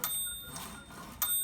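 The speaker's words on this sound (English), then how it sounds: "Nice bell." Bell of a 1972 Webster XL-747 typewriter made by Brother: a bright, clear ring that chimes once early and again near the end, with soft mechanical handling noise between, no talk.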